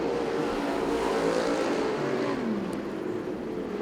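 IMCA stock cars racing in a heat race at Arizona Speedway, a continuous loud engine roar from the pack with pitch rising and falling as the cars pass, sustained and steady throughout.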